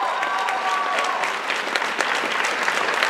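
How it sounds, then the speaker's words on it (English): Convention panel audience applauding steadily, a dense wash of many hands clapping throughout at close range, with a few faint voices mixed in. "I love your applause, because I think we all need that."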